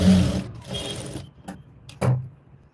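A sewing machine stitching a simple blouse, reverse-stitching back and then sewing along the top side, runs in a dense burst near the mic, pauses, then gives a few short separate bursts.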